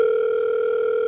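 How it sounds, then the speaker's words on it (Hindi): A telephone sounds a loud, steady electronic tone, alone and close. "सर आपका फोन आ रहा है।"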